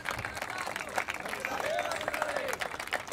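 A crowd at an Ambedkar Jayanti celebration ceremony claps continuously, a rapid patter of many hands somewhat in the distance, while voices carry over it.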